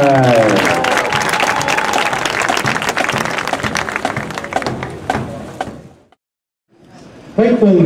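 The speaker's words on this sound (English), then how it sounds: "Let's have another round of applause for the Franklin County High School Marching Band." Applause from a stadium crowd for a high school marching band at a band invitational, dense clapping with a voice over it at the start, dying away to near silence before a voice returns at the end.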